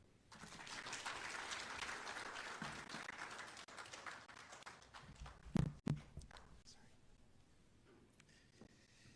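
A crowd at a formal gathering where a mediation report is presented to Ghana's President applauds, steady clapping filling the first half, then thins out with a few loud knocks and fades to quiet murmuring.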